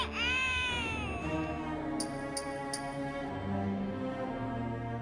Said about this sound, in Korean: 건전지 없이 우는 아기 인형까지.